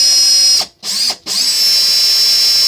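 Power drill spinning wire to wind a single-core Clapton coil, a steady high-pitched whine that cuts out twice in quick succession, then runs on steadily.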